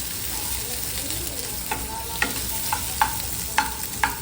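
Onions frying in hot oil in a pan for a cauliflower curry, a steady close sizzle with several sharp clinks and scrapes from stirring.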